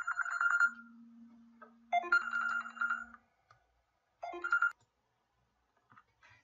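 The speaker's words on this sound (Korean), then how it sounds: "갑자기 전화 오는 바람에 그냥 잡음이 들어갔습니다." A phone ringtone from an incoming call plays in short melodic bursts, three clear phrases with pauses between them, fairly close and alone in an otherwise quiet room.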